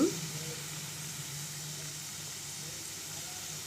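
Cabbage curry frying in a pan: a steady, soft sizzle and hiss that runs evenly throughout at low volume, with no speech.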